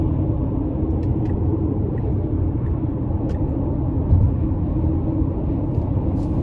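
A 2016 Tesla Model X 90D cruising on an interstate, heard from inside the cabin as a steady low road rumble and tire hum, even and continuous with no engine note and no talking.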